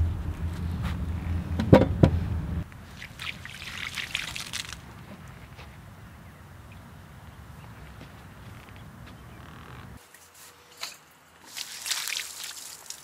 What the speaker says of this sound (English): Let's throw some water on it now and see how it looks.